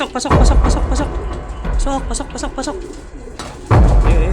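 A racing pigeon arrives home at its loft, with soft cooing and bird calls amid wing flutters and handling noises, while someone talks nearby.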